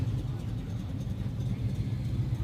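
Supercharged Dodge Challenger with a Magnuson supercharger sitting at idle, a low steady engine burble heard quietly and evenly throughout.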